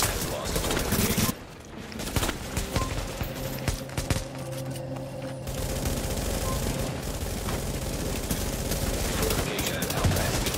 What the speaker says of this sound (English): A fortification at Alpha is taking enemy fire.